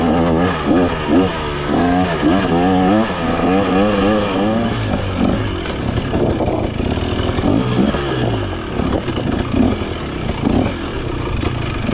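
A 2023 KTM 300XC two-stroke dirt bike engine revs hard while being ridden in low gear, rising and falling in repeated bursts, close and loud, with clattering and rough idle toward the end.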